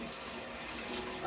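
Tap water runs steadily over Brussels sprouts being washed at a kitchen sink, a continuous soft hiss lasting the whole moment with no talk.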